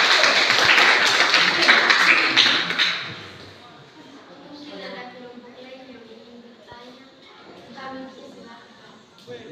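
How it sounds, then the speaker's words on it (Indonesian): A burst of applause and clapping from a group fills the first few seconds, then fades out as people begin talking. "Jadi kita tepuk tangan dulu untuk kelompok 1."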